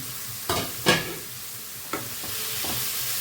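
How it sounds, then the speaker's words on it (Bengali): Soaked potato pieces sizzle in a hot pan while a utensil stirs them in a few distinct scrapes and clacks, close and fairly loud over a continuous hiss, with no talking. "আমি দিয়ে দেবো ভিজে রাখা আলুর টুকরাগুলো আমি দিয়ে দিচ্ছি"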